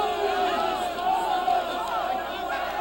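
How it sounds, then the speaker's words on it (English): An angry crowd shouts in a film scene of the mob turning on Paul and Silas, a continuous massed clamor of raised voices with a few cries rising above the din. "The crowd joined in the attack against Paul and Silas"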